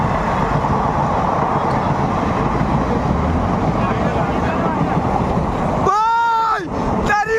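A train roars past close by as a loud, continuous low rumble with a windy, broadband wash. Near the end a voice shouts over it.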